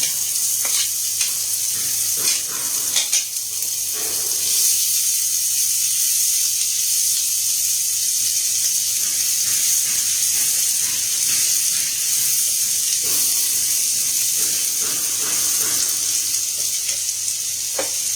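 Chopped onion frying with garlic in a pan, a steady hiss of sizzling oil with occasional scraping stirs, continuous and fairly close throughout with no talking.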